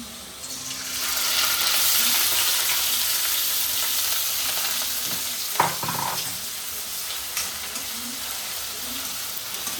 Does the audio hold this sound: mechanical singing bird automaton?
no